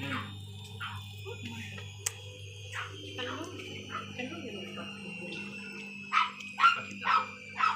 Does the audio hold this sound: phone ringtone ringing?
no